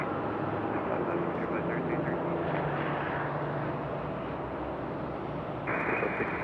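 At Raleigh Durham airport, an airplane takes off from the runway, its engines a loud, broad, steady roar throughout, with a tonal whine joining near the end.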